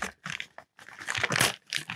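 A Tyvek shipping package crackles and crinkles up close as it is pulled open, in loud irregular bursts with brief gaps.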